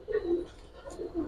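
Low, soft cooing from a male pigeon, a couple of murmured pulses, close but quiet, with no talk over it.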